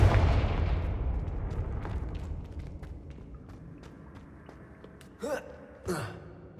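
A Confringo fire spell from Hogwarts Legacy lands with a loud burst and then a long decaying rumble. Two short, sharp sounds follow near the end.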